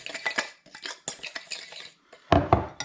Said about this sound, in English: And now I've got to whisk. And I've got to keep doing this until I get stiff peaks